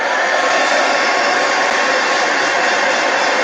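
A hair dryer blows steadily on old craft paint, a loud, constant close-up whoosh with no breaks.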